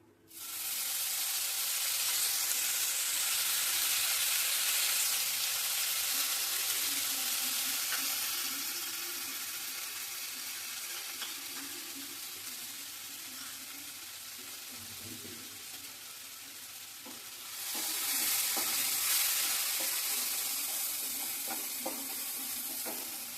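Cashew nut and paneer paste goes into a hot pan with a little cumin and sizzles loudly and continuously, easing off midway before flaring up again, with no voices.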